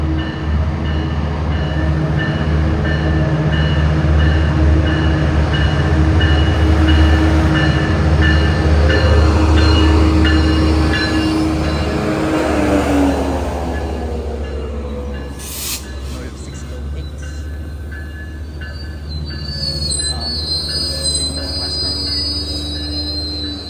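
A Metrolink commuter train arriving at a station, heavy rumble with long, loud wheel squeals that fade as it slows to a stop, followed by a brief high hiss.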